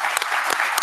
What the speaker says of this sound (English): So then everybody clap.